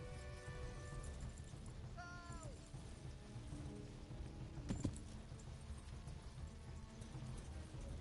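A horse's hooves clip-clop at a steady, quiet pace in the video game Kingdom Come: Deliverance, with a brief mechanical clank and faint tonal effects layered over the rhythm.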